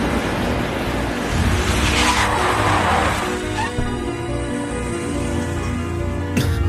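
A car's tyres skid loudly as it brakes hard to a stop, a broad sustained screech over engine rumble that fades, ending in a sharp burst near the end.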